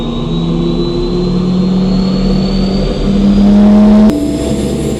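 A Gazelle helicopter's turbine engine spools up to speed, a loud steady whine with rising tones climbing in pitch over a deep rumble, close and unbroken, then a brief sharp shift near the end.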